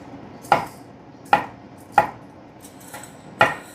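A knife chops through a couple pounds of shrimp on a cutting board in five sharp, separate strikes at an uneven pace, close and clear with no talking.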